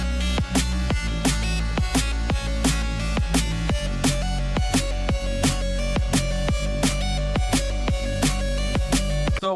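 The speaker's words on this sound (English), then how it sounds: "So I have this rough song idea with some drum and bass drums I threw down, just a basic kick and snare pattern." A rough drum and bass song idea plays with a basic kick and snare pattern, its sharp hits repeating in a quick, steady rhythm over sustained low bass and a melodic layer, with no talking.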